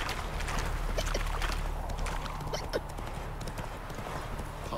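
Hoofbeats of the horse Roach galloping in The Witcher 3 video game, a steady, fast clip-clop rhythm running throughout over a low game ambience.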